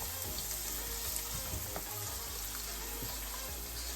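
Chilli paneer crisping in a hot pan, a dense continuous frying hiss with light clinks and stirring underneath. No voices.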